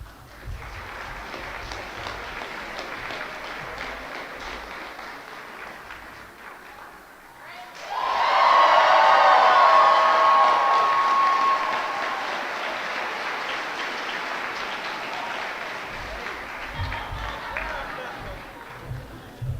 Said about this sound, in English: if you could all cheer really loud for the class of 2014